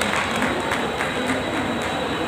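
At a railway workers' gathering for Ambedkar's birth anniversary, a crowd applauds with continuous, moderately quiet clapping that carries on steadily throughout.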